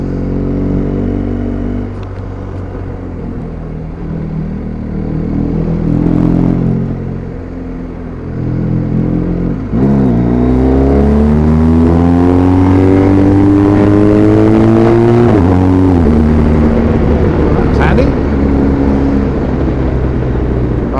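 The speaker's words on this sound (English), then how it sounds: "This is one car." A single car drives past on a quiet mountain road in the Picos de Europa. The engine swells loud and close with a rising pitch, then drops away as it passes.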